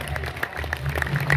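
Light, uneven clapping from a comedy show audience during a political mimicry act carries on at moderate volume, with a few sharper claps near the end over a low room hum.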